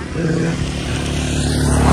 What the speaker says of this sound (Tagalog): bumalik lang kasi may motor